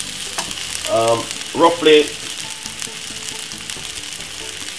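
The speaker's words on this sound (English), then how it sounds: "Then add the rice. Give it a stir." Rice for sweet chilli fried rice is stirred in a frying pan, sizzling steadily with a few louder scraping stirs near the middle; a brief spoken word is heard.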